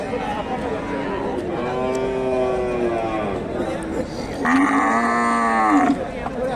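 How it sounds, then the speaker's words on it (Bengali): A Friesian bull at a Bogura cattle market lows twice in long, loud, drawn-out moos, the second pitched higher, over a steady background of market noise. "এখানে বেশ বড় সড়ো একটা সার গরু দেখতেছি ফ্রিজিয়ান জাতের"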